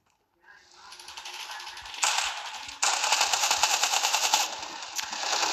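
Video game gunfire rattles in fast automatic bursts, loud and continuous with brief breaks between volleys, and a voice speaks in the background during the shooting.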